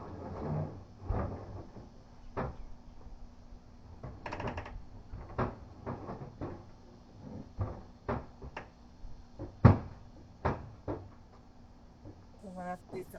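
Cupboard doors in a mudroom open and shut repeatedly, a run of sharp wooden knocks and clacks at irregular intervals with one especially loud bang, while a person talks quietly in between.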